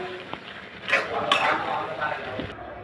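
A soybean curry cooking in a pot with a spoonful of ghee, stirred with a metal spoon that gives a few clinks and scrapes against the pot over a soft background hiss.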